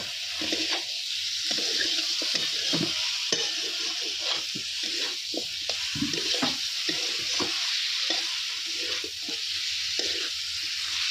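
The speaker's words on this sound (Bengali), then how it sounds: "এবার আমি ভালো করে কষে নেব" Ground spices and cumin being stirred and fried in a pan for chicken kosha curry, a continuous close sizzle broken by frequent scraping stirs, with no voices.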